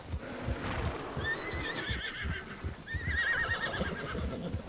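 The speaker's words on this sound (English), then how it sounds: "Temos que ficar fazendo carinho no cavalo para ele ganhar afeição com o dono." A horse in the Red Dead Redemption 2 video game gives two high, wavering whinnies while being petted, with soft clip-clop hoof thuds and shuffling steps underneath, close and clear.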